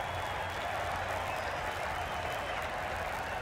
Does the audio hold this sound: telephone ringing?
no